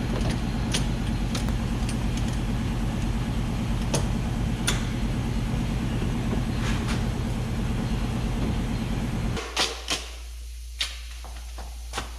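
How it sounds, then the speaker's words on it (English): An air compressor runs in a shop during a plastic truck bedside repair, a loud steady low-pitched motor drone that cuts off near the end, leaving a few scattered clicks and knocks. "And of course there's my compressor."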